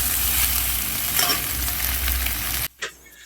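Soya chunks and fried potatoes sizzle steadily in a hot pan while being stirred, a dense continuous frying hiss with scraping, then it suddenly cuts out near the end, leaving quiet.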